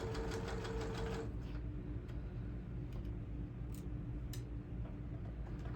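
A sewing machine runs steadily at moderate speed stitching fabric pleats, its close mechanical whir briefly louder at the start, with a few faint clicks and no talking.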